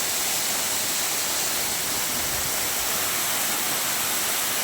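Waterfall at Kalasapadi near Harur, a steady broadband roar of falling water that stays loud and unbroken throughout, with no voices over it.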